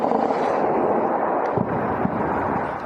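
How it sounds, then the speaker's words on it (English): Powerful explosions around Tehran during Israeli strikes, heard as a continuous, heavy rumble with dull booms rolling in and out at a distance, with no voices. "Explosions heard around the Iranian capital."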